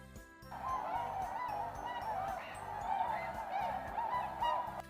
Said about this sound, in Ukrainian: А це птахи відлітають у теплі краї.